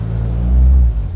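Honda CR-V with a K-swap engine and custom exhaust idles roughly from a faulty idle air control, a close, loud, low rumbling drone with a slight surge.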